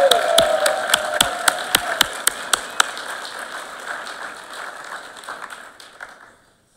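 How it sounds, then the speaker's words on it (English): Audience applause for graduates at a 2022 university graduation ceremony, dense clapping at first with several sharp close claps, then thinning and fading out over several seconds. "Let's give our graduates a huge round of applause."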